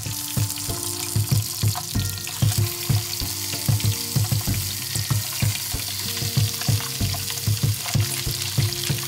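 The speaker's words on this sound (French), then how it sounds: "Il verse l'huile d'olive dans une autre poêle et y met à colorer les morceaux de poulet 5 minutes" Chicken pieces brown in olive oil in a frying pan, a steady close sizzle broken by frequent sharp crackles and spits that repeat in an uneven rhythm, with no talking.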